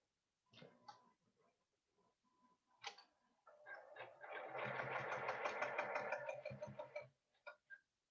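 A sewing machine stitches quilt block pieces and runs over a pin: scattered soft clicks and taps, then a steady rattling run of stitches for about three and a half seconds that stops abruptly, fairly quiet and close.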